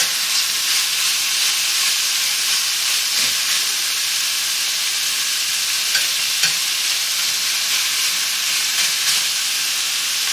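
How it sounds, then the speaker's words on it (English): Pork slices searing in a hot pan for yakisoba, a steady close sizzle holding throughout with a few faint clicks and scrapes, no talking. "So here's the pork, and we're just going to go ahead and lay it in there. And we're going to let that cook and get a little toasty."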